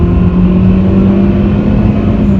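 A 2017 Hyundai Accent accelerates hard from a standstill, its engine droning loudly and steadily up close in the cabin, with no talk over it.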